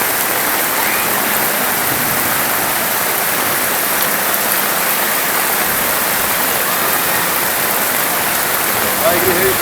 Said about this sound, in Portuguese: Olha a chuva, meu filho. Olha a chuva, rapaz.